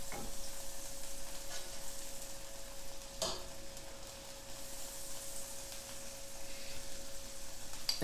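Butter sizzling on a hot pancake griddle, a continuous soft hiss of frying with a faint steady tone beneath and an occasional light tap, close and without talk.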